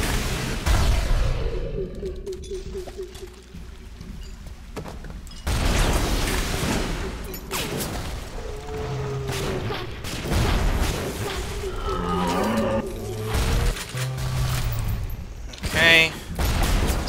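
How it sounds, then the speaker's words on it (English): Heat-seeking RPG missiles fired in the shooter game Bioshock, a run of loud launches and booming blasts with crashing impacts and mechanical clatter, someone talking over much of the action. "A couple heat-seeking RPGs. And... fire the missiles!"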